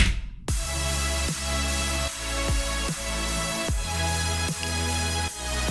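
Final mix of a melodic dubstep drop with layered bass, lead and synth parts plus atmosphere, bursting in after a brief rising intro into dense, loud electronic music with rhythmic bass drops and pitch swoops.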